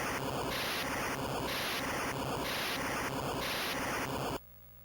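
White noise from a sound generator demo, a steady loud hiss swelling and dipping in regular pulses, then cutting abruptly to a low, quieter hiss near the end.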